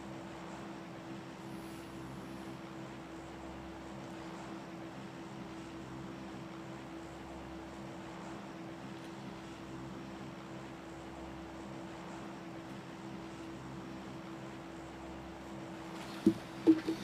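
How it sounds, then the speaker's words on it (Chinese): An airplane engine idles before takeoff in a video game, a steady, even drone with a sustained hum throughout and a couple of brief clicks right at the end; no one speaks. "飞机很快就要起飞了"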